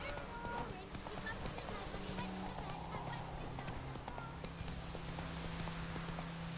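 The horse Roach gallops in The Witcher 3, with steady rapid hoofbeats running through the whole stretch under a constant wash of ambient game sound.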